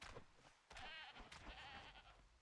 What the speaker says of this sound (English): A couple mountain goats.